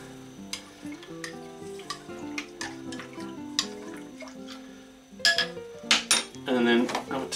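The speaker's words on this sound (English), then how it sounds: "Give it a stir." A spoon stirs half a cup of microwaved warm milk in a dish while junket pudding is made, with soft clinks and scraping that grow into louder, quicker clatter near the end, close and without talk.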